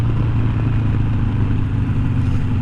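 Harley-Davidson Iron 883 motorcycle with Progressive 412 rear shocks riding along a road, a steady loud low engine drone with rumbling exhaust and wind noise throughout, no talking.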